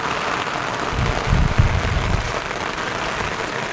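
Heavy monsoon rain falls in a dense, steady wash of noise, loud and close, with a brief louder burst partway through and no speech.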